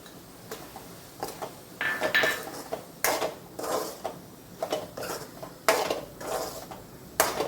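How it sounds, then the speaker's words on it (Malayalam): Dried mango pickle being stirred in a pot after roasted ground mustard and fenugreek are added, heard as repeated metallic scrapes and clinks of a spoon against the pot in an uneven rhythm, close by. "നന്നായിട്ട് ഇളക്കാം"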